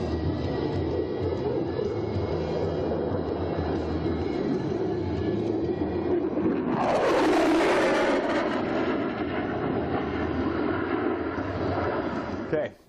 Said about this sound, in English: now I'm going to just let the thing accelerate, which is mind-numbing, the kind of acceleration that you get in this jet down low